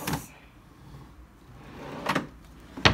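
A tool drawer in an apartment gives three short, sharp clacks, one at the start, one near the middle and one near the end, with quiet room tone between them.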